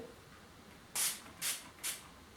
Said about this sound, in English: I'm going to be spraying this with my setting spray